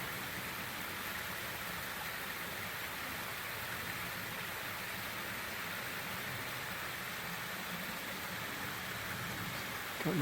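Waterfall at Fitzgerald Falls on the Appalachian Trail in New York, a steady, dense rush of falling water that holds constant and fairly loud for the whole stretch, with no voices.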